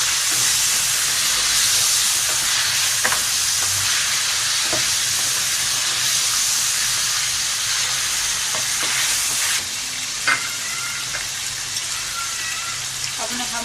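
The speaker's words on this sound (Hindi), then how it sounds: "अब अच्छी तरह इसमें अदरक लहसुन डालकर हम थोड़ी सी भुनाई करेंगे," Ginger garlic paste sizzles steadily in hot oil as it is sautéed for a meat and ridge gourd curry, a continuous bright frying hiss with occasional stirring scrapes, fairly loud and close.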